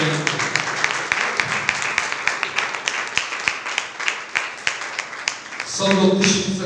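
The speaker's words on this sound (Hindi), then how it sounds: "जोरदार तालियां बजाएंगे खुदावंद के कलाम को वेलकम और खुशामदीद करने के लिए।" A church congregation breaks into loud, steady clapping for several seconds, with a dense patter of hands that fades as a voice begins to speak near the end.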